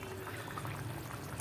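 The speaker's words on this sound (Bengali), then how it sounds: "এই যে মাছের ঝোলটা ফুটে গেছে এবার" A thin Bengali-style foli fish curry with potatoes bubbles softly in the pot, then a short, sharp splash at the end as the fish goes in.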